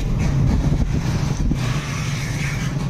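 A Honda Click V3 scooter engine idles at about 800 RPM with a steady low rumble and faint mechanical chatter, close and fairly loud, with no one speaking.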